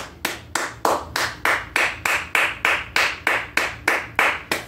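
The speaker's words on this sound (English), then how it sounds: "That right there is the big applause." Steady, slow single-person handclaps, about a dozen evenly spaced sharp claps close to the microphone, each with a short room echo, no talking.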